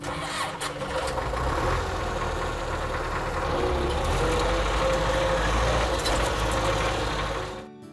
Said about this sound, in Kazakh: қария тракторға қарғып мініп үйреншікті әдетімен дереу от алдырды